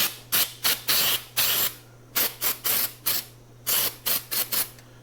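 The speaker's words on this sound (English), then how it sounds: "Just going to spray this." Short bursts of aerosol spray hissing close by into a Marlin Model 49 rifle trigger, coming in quick clusters with brief pauses between, over a low steady hum.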